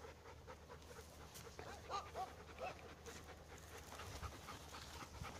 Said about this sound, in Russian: Ну, собачки.